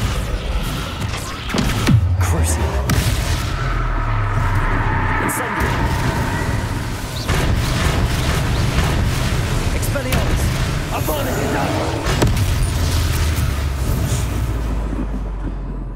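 Depulso and Descendo spell impacts in the Hogwarts Legacy video game land as loud, dense booms and crashing bursts that run almost continuously, with repeated shouted voices over them.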